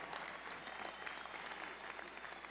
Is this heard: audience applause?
yes